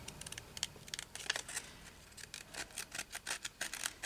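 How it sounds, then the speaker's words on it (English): Scissors cutting around a paper craft piece, quiet and close, with a run of crisp snipping strokes that speed up into a quick rhythmic series near the end. "You just cut around here like this."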